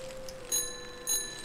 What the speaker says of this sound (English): I can ring my bell